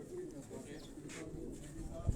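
A pigeon in breeding condition coos softly in a loft among other birds, low murmuring calls repeating over faint background noise, with a brief thump at the end.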